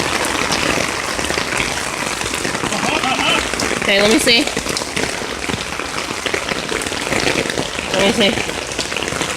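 Steady rain patters and splashes onto water barrels outdoors, a dense continuous hiss close by, while a person talks briefly over it.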